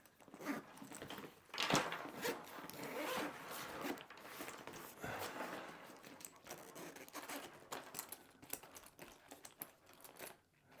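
Zippers on an Aer Travel Pack 3 backpack are pulled open repeatedly in quick, raspy strokes, some long and some short, close up with no talking.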